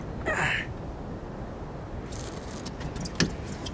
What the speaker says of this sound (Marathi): कशाला असली भंगार गाडी आणली कुणास ठाऊक.